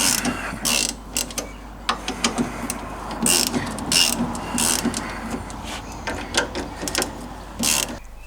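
A ratchet loosens bolts on an MGB's suspension, giving bursts of rapid clicking close by, broken by short pauses as the handle swings back and forth.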